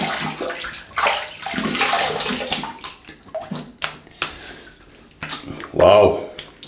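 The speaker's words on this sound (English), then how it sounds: "let's have a little rinse" Water runs and splashes as a shaving brush is rinsed under a tap after a shave, a steady close gush with brief pauses and a louder splash near the end; someone talks over parts of it.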